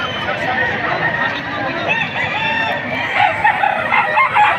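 A rooster crows among clucking chickens while people talk nearby at an outdoor chicken market in Padre Garcia, Batangas.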